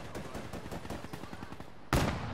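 Call of Duty Black Ops 3 gunfire comes as a rapid automatic burst of roughly a dozen evenly spaced shots, followed by a single louder, heavier blast near the end.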